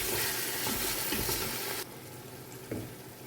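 Masala stirred into a sautéed onion mixture for chicken biryani, with steady frying sizzle and scraping over the first two seconds, then a quieter stretch with one stirring knock.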